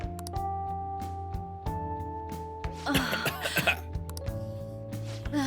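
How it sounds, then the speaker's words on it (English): Repeated coughs from a single Persona 5 Royal video game character, close and fairly soft, set over a steady background music track. "I can't stop coughing."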